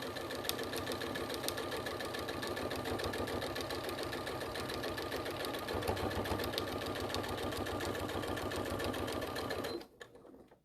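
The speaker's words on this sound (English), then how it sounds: "we're going to sew that across, straight across" A sewing machine stitches straight across patchwork fabric in one fast, steady run of rapid needle strokes, close and loud, stopping abruptly near the end.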